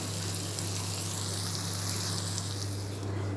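Goat spleen fries in a pan, giving a continuous, even sizzle and crackle close by, over a low electrical hum, with no talking.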